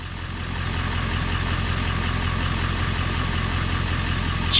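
A car engine on an e-fuel setup idles steadily and fairly loud, a low continuous hum with no clear start, and no talk.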